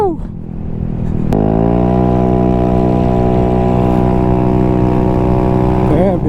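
A Vespa Sprint 150 scooter engine, a tuned Bieber build, revs up with a steady, rising harmonic drone that climbs in pitch as it accelerates. The sound is loud and close, holding strong throughout.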